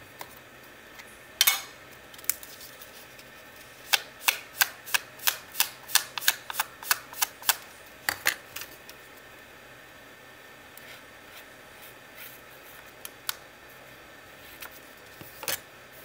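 Scissors snipping through paper for a handmade mixed media flip book, a string of crisp, close cuts in quick bursts with pauses between, in a quiet room without talk.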